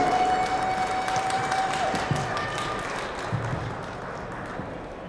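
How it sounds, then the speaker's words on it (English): Dense, steady audience applause welcomes a singing group onto a live stage. The clapping is sustained and close, easing slightly toward the end. "Can we give a huge round of applause?"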